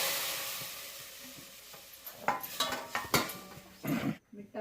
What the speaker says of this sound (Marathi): हे टाकून घेऊ चवळीची शेंग फोडणीला.